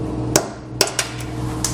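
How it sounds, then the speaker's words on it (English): A hammer strikes a punch to drive a stuck rivet out of its hole while fitting a Curt trailer hitch receiver to a 2019 Ram 3500, with several sharp metallic blows at uneven intervals, loud and close against a low steady hum. "Just use a hammer and a punch to knock the rest out."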